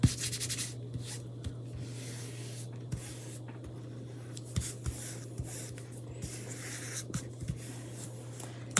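A Chalk Couture transfer stencil is rubbed down by hand, giving soft, close scraping and rubbing strokes with faint repeated taps, quiet and without talk.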